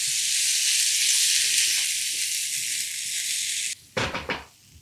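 Two teaspoons of sesame seeds hit hot oil in a pan while making aloo fried rice, giving a loud, steady hiss that cuts off abruptly, followed by a few short crackling bursts and pan noise as it dies away.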